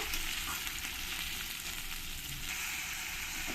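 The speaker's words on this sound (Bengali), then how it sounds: "টমেটোগুলো দিয়ে পেঁয়াজের সঙ্গে আমি একটু ভালো করে কষিয়ে নেব" Chopped tomatoes fry with onions in a pan, giving a steady, dense sizzle that stays even and unbroken throughout, close and moderately loud.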